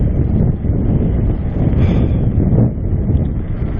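Loud, steady wind roars over the microphone while riding an Eco Tric electric fat tire bike on a cold snowy day, a continuous low rumbling buffet with no voices.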